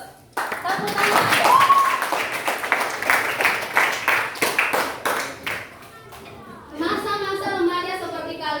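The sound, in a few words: classroom applause, clapping hands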